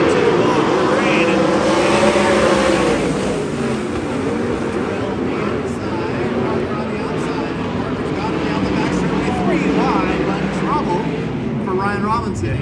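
Race cars roar around the Tulare ThunderBowl track, a loud continuous engine din with rising and falling passes, while an announcer talks over the racing.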